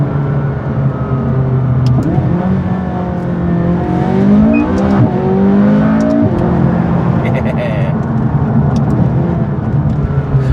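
A McLaren 570S supercar in sport mode accelerates with a loud, close engine note that climbs in pitch through rising gears. A brief shift dip breaks the sweep before it settles into a steady drone.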